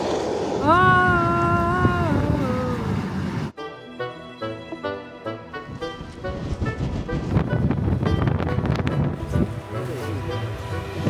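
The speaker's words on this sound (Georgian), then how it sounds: "ისეთი ქარი არის თან, ძალიან ცვალებადია ისლანდიაზე" Strong gusty wind outdoors in Iceland, a loud rushing roar buffeting the microphone, with scattered clatter and some voices mixed in.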